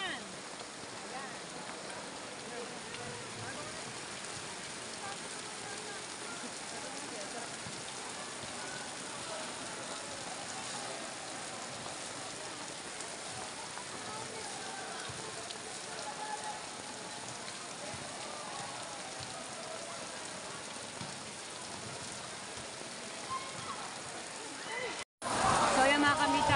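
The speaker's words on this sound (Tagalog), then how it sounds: "Biglang bumuhos talaga ang ulan." Heavy rain pours down steadily near an outdoor court at Bucana, a dense, unbroken roar of downpour that continues for the whole stretch before a brief gap and a louder burst at the end.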